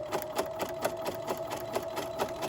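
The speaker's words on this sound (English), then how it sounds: "But now I'm going to sew over my strap." A sewing machine zigzag-stitches over the strap of a fabric drawstring bag, giving a quick, even mechanical chatter of needle strokes at roughly four to five per second, fairly quiet and steady with no speech.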